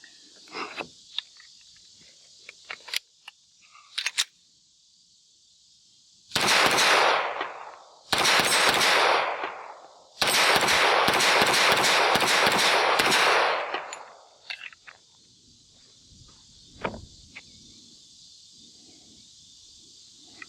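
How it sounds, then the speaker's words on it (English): A Taurus TH45 double-action .45 pistol fires a magazine outdoors: three dense bursts of loud, rapid cracks run several seconds each, separated by short pauses, with scattered faint pops and clicks before and after. "let's put one more mag through here"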